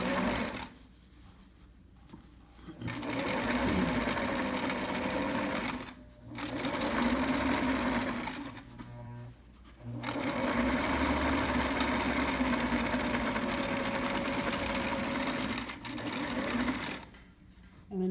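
A sewing machine stitches down the center of a seam in contrasting thread on a trapper's hat, running in several sustained bursts separated by short pauses, loud and close, with little talk.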